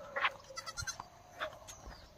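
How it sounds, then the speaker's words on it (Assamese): A goat being led around a rural Assamese homestead gives a few short, faint bleats in quick succession, fairly distant and quiet with no talk. "এতিয়া ছাগলীজনী লৈ আহিছোঁ"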